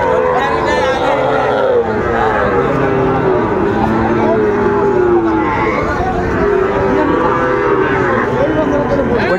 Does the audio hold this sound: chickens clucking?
no